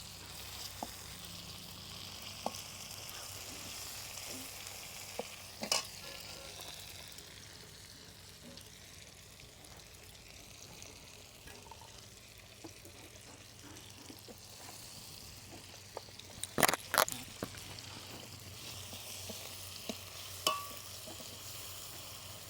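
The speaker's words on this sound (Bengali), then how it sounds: "এবার আমি টমেটো দিয়ে দিচ্ছি ওই তেলেই" Tomatoes sizzle gently in hot oil throughout, a quiet steady crackle broken by a few sharp clicks and taps of a utensil against the pan.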